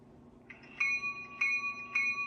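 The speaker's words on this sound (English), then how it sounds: "The bell works." Bell of an Intermountain RJ Corman GP16 model locomotive on its track: three evenly spaced, ringing electronic dings, each clear and sustained over a quiet background.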